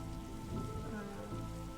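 Steady rain patters on a surface in the video game Frog Detective 2, a continuous, soft wash of droplets with a low rumble beneath, heard quietly and alone.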